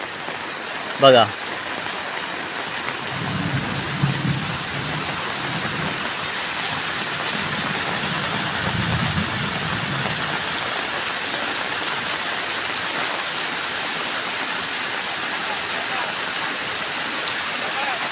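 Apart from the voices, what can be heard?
thin waterfall in the monsoon rain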